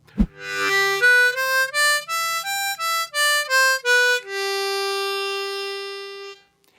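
A short electric guitar phrase of single picked notes stepping through a no-bend blues scale, ending on one long sustained note. No voices.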